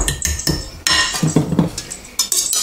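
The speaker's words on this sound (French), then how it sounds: "On mélange ça énergiquement." A preparation beaten vigorously in a bowl, with a utensil clinking and scraping against the sides in quick, uneven strokes, close and fairly loud.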